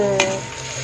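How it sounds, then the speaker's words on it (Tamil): Onions hit hot oil in a pan for a fish fry, giving a brief steady sizzle with a small stir clink near the start. "இப்போ ஃபஸ்ட்டு வந்து ஆனியனை நம்ம போடணும்."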